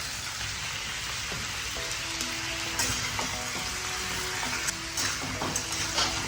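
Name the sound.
pomfret, brinjal and potato sautéing in a pan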